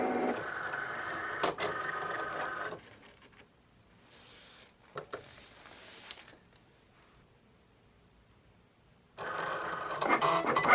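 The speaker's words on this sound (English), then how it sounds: "It's not really a big design, but it's big enough for Cricut to take forever." A Cricut cutting machine works through a rhinestone design for a grad cap topper, with a close whirring, buzzing carriage noise in the first few seconds. It then goes quiet with faint ticks and starts up again at the end.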